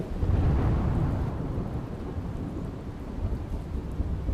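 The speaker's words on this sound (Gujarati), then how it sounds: "ભારે પવન અને ગાજવીજ સાથે વરસાદનું આગમન થયું।" A thunderstorm in Padra taluka near Vadodara, Gujarat brings heavy monsoon rain and strong wind: a dense, steady roar of downpour with low rumbling throughout, loudest at the start and easing slightly, with no voices.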